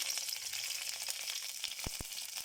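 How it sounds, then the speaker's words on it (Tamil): Dried red chillies and curry leaves fry in hot oil for rasam, giving a steady, faint hiss of sizzling with a couple of soft taps, and no talking. "காஞ்ச மிளகாய் போட்டுக்கலாம். கறிவேப்பிலை போட்டுக்கலாம்."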